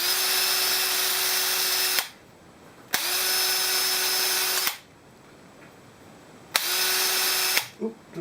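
A power drill bores holes in a metal bracket during a home workshop build, three loud sustained whining bursts separated by short pauses, close up with no voices.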